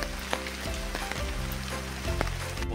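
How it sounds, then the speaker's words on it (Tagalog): Steady rain patters and hisses on surfaces through a wet afternoon, a dense continuous wash of drops with a few louder splashes standing out close by. "Maulan kaya ano po, payong na tayo kasi maulan yung"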